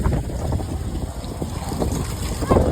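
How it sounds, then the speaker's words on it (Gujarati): Strong gusting wind ahead of a storm in Bhavnagar: loud buffeting rumble against the microphone, rising and falling in irregular gusts, with no clear speech. "પવન ઉડ્યો છે ફૂલે ફૂલ"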